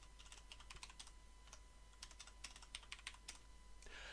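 Password being typed on a computer keyboard, a steady run of soft, quick key clicks at close range in a quiet room, with no talking.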